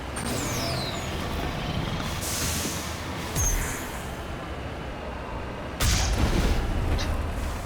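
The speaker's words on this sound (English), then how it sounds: "I shot through my tank to hit them." Booming tank cannon shots in the video game Mass Effect, a loud blast near 3.5 seconds and another heavier one near 6 seconds over a constant rumbling engine drone.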